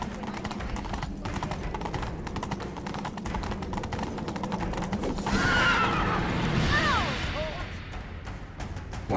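A horse whinnies loudly in the video game The Witcher 3: Wild Hunt, with rising and falling squeals over steady galloping hoofbeats and a busy, rumbling background.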